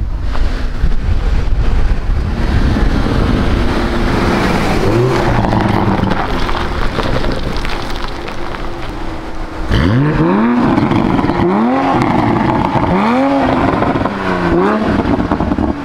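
A Toyota Mark V Supra with a Dyson aftermarket exhaust accelerates hard with a rough, droning tone under heavy wind rumble, engine pitch sweeping up repeatedly through gear changes.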